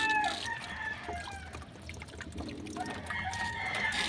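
Pigeons at feeding and water-change time flutter and call steadily while water is poured and splashes near their coop. No one speaks.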